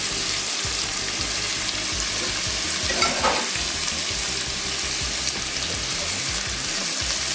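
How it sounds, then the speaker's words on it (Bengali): Papaya and ridge gourd fry together in a pan while being stirred, making a steady, loud sizzle with rhythmic scraping strokes throughout and no talking. "এবার আমি এগুলোকে একসঙ্গে ভাজা ভাজা করবো এবার তার জন্য একটু নেড়ে দিচ্ছি"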